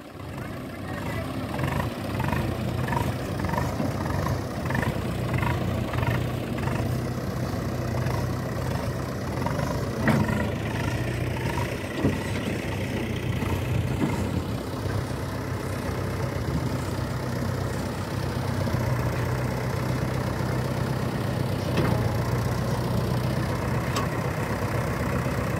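An old tractor, about thirty years in service and driven by an elderly farmer, hauls a heavy load of soil with its engine running at a steady, continuous rumble. The sound is close and sustained throughout, with occasional clanks and rattles over it.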